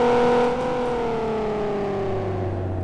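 A Volkswagen Golf V engine holds high revs from inside the car, a steady droning whine that eases slightly downward in pitch as it carries on, loud and alone without speech.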